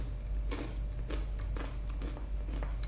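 Someone chews crunchy roasted spiced chickpeas up close, with crisp crunches repeating about every half second over a low background rumble.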